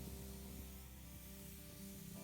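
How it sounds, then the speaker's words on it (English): Lacquer finish being sprayed onto chemically patinated silver and copper metal, a faint, continuous hiss of spray heard alone with low background hum. "I'm spraying lacquer as it will not discolor over time and it can be polished to a high gloss."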